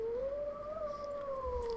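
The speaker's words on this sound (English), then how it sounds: "That howl." A drawn-out animal howl in the video game Tales of Symphonia: Dawn of the New World, one steady wavering tone that rises slightly and then falls, loud and alone over a quiet game backdrop.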